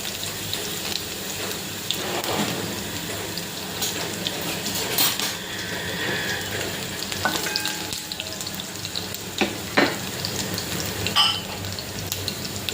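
Garlic sizzles in hot oil during tempering, with a steady crackling hiss that rises into sharper pops partway through. Faint watery clatter runs underneath.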